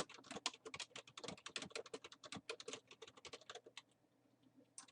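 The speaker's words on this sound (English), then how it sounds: "I want to type sales of rose plants" Rapid typing on a computer keyboard while entering text into an Excel spreadsheet, a quick run of crisp, close key clicks in an uneven rhythm that slows and fades near the end.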